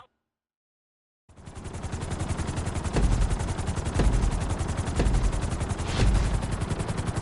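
Helicopter in the GTA V video game, a loud, steady rotor chop with a rapid rhythmic beat that starts abruptly after a second of silence and holds close and strong, with periodic swells in intensity.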